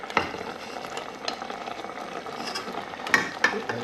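Blanched runner beans are stirred into a hot, spicy runner bean chutney mixture in a pan. A soft, wet sizzle runs under irregular scraping and clinking from the spoon, with a few sharper knocks near the end.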